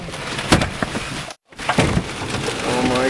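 Car window glass shatters under giant hail during a tornado-spawning hailstorm, with sharp cracking bursts over a constant loud roar of pounding hail, a brief near-silent gap, then the roar resumes.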